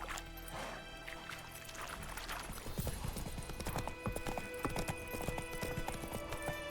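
Horse hooves clip-clopping at a steady trot in the video game The Witcher 3: Wild Hunt, a rhythmic stream of hoof beats over background music and ambience.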